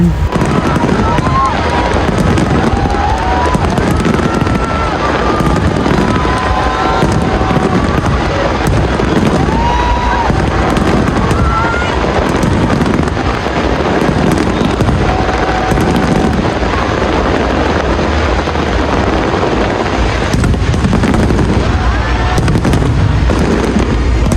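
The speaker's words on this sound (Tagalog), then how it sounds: "Sobrang linis nga ng pagkakagawa nga ng China ng mga fireworks nga nila." A long pyro-musical fireworks display made in China pops and crackles continuously with dense bursts and booms, a loud, steady barrage with whistling rockets rising and a crowd faintly audible beneath.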